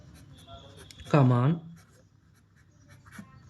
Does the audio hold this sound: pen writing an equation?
yes